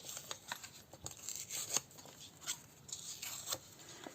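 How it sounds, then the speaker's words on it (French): Paper being torn by hand for scrapbooking, a series of short ripping strokes and crinkles spread across the moment, fairly close and quiet, with no talking. "je vais voir si je déchire pas comme ça"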